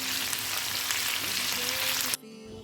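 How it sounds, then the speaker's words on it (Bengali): Chicken wings fry in hot oil with a dense, loud, continuous sizzle that cuts off abruptly near the end. "আমাদের একটু ভেজে নিতে হবে চিকেন উইংসগুলোকে"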